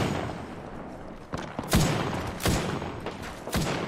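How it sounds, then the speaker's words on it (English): Enemy gunfire in the video game Apex Legends, a handful of sharp, separate shots cracking out at irregular intervals, fairly close and loud over a steady background hum. "They're still just shooting me"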